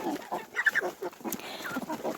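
Three-month-old chickens clucking close by, a run of short soft clucks and chirps coming in irregular bursts, fairly near and with no talking over them.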